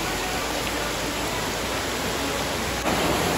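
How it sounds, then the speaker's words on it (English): The Bariya Pathar waterfall roars on a hillside, a loud, dense, unbroken wash of falling water close by that fills the whole scene without a break. "this is the waterfall beside me"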